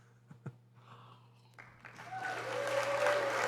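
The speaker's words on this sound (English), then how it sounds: "No applause for that?" Applause sound effect that swells in after a few faint taps and low hum, building from quiet to a full, steady crowd clapping by the end.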